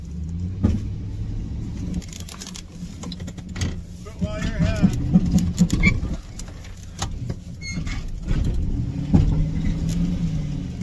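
A truck engine strains and revs while hooked up to pull a corn sheller, rising and falling in bursts, with clunks and voices talking over it.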